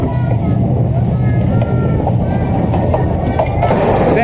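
A 3001-series passenger train bound for Cox's Bazar runs at around 80 km/h, giving a loud, steady rumble with rail clatter throughout and faint voices underneath.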